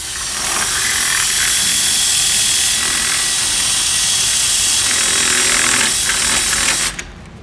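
A power drill bores holes for a rain gutter on a 1969 Pontiac GTO convertible, whining loud and steady at close range for several seconds before cutting off abruptly.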